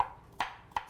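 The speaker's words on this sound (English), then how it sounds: "you're just going to chop up your garlic really small" Large garlic cloves chopped small with a kitchen knife on a board, three crisp, evenly spaced chops close by, no talk.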